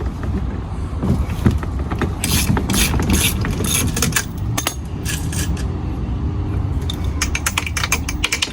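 A hand ratchet loosening bolts on a bus door lock bracket, giving rapid clicking pawl strokes in irregular bursts with metallic tapping, close and clear with no speech.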